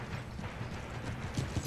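Cavalry hooves of horse guards clip-clop in the Empire: Total War video game, a soft, rapid and fairly distant trotting rhythm over low battlefield ambience.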